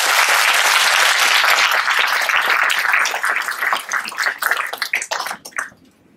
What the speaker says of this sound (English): So please, let's give the PTA a round of applause.